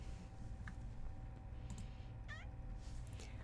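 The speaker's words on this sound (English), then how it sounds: "Silly cat." A house cat meows during a livestream, a short faint call with a rising and falling pitch over steady room hum, with light keyboard-like clicks nearby.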